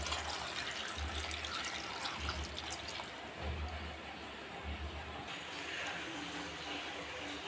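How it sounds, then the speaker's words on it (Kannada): Water is poured into a pot of goat legs seasoned with turmeric and salt for paya soup. The pour is a faint, steady trickle that lasts several seconds. "ಸ್ವಲ್ಪ ನೀರು ಹಾಕೋಣ."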